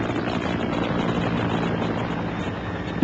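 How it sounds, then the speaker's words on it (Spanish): Helicopter landing, a steady dense rotor and engine roar that stays loud and constant throughout with no break or voices. "un helicóptero aterraba para transportarlo al hospital"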